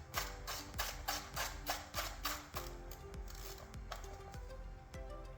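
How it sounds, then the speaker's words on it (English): A socket ratchet with an extension snugs an 8mm bolt on a 2.4L Toyota Tacoma engine during spark plug and coil work, giving a run of close, rhythmic clicking strokes that gradually shorten. "Socket, ratchet, and extension."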